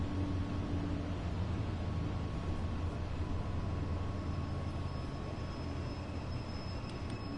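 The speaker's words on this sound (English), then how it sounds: "I so want to race these bloody trains." Simulated train running in Train Sim World 2 on a Dresden local rush-hour route: a steady low rumble with a constant hum, even and continuous throughout, with no talk.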